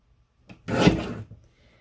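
Paper strip for a scrapbook page being trimmed, a single smooth rasping cut lasting about half a second, close and clear in a quiet room.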